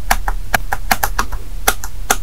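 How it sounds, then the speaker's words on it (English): Keys clatter in quick, uneven taps on a Lenovo ThinkPad T14 (Ryzen 7) laptop keyboard with a misaligned key that catches on the frame, crisp and close with no talking. "So this key, it doesn't sound normal, it doesn't feel normal, it's catching onto the edge of the keyboard frame."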